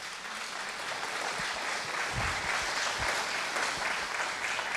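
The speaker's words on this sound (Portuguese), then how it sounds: "Quem aplaude o Senhor aqui?" A church congregation applauding during a sermon, a thick continuous roar of many hands clapping at steady volume, with a few low thumps and scattered voices mixed into the crowd.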